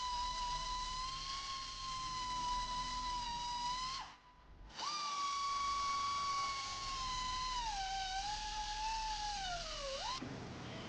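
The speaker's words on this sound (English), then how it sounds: "we're going to clamp them in our vise and we're going to cut them where we marked them" A high, whining tool cutting metal pieces clamped in a vise with a steady pitched drone, pausing briefly, then resuming and dropping in pitch as it bites before stopping.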